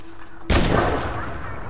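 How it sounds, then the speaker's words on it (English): A single sharp, loud gunshot from a video game bursts in and decays into a rumbling tail, with a faint tone and ambience before it. "One shooting at me, and the other shooting at me."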